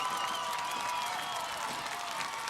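Crowd at a 1994 Paintsville high school football game (Apple Bowl against Johnson Central) cheering and applauding steadily, a dense continuous roar with scattered claps, fairly loud and sustained throughout.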